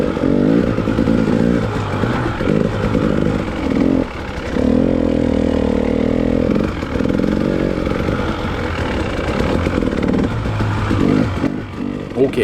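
Dirt bikes ride a packed, variable snowy trail, giving a loud, steady engine drone with rising and falling revs and bursts of throttle, continuous and close throughout.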